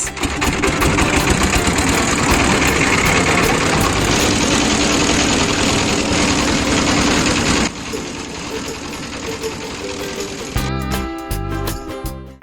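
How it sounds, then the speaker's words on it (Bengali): A passenger starts a small boat's engine under a bridge, and it runs as a loud, steady rattling idle close by, then drops in level and changes to a choppier knocking toward the end. "এদিকে প্যাসেঞ্জারই নৌকা স্টার্ট দিচ্ছেন যদিও বা প্রথমবার ফেল কিন্তু দ্বিতীয়বার সাকসেস"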